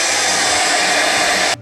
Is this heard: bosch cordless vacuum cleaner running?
yes